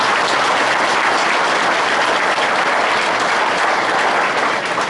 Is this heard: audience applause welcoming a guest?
yes